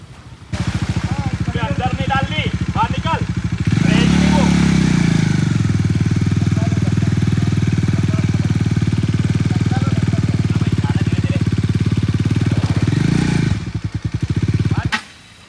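A motorcycle engine idles nearby with a steady, throbbing rumble for over ten seconds, then cuts off; a few voices are heard faintly at the start.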